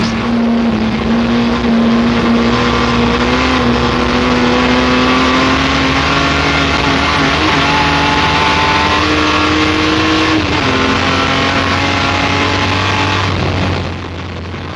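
A Jaguar D-Type race car engine roars loud and steady on track, holding a high drone with slight pitch shifts as the throttle eases and picks up, then dropping near the end.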